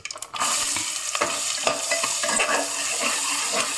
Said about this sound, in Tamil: கொஞ்சமாக வெண்ணெய் போட்டு ஆயில் விட்டு கடுகு போட்டிருக்கேன் அப்புறமா கொஞ்சமாக சீரகம் சீரகம் போட்டிருக்கேன்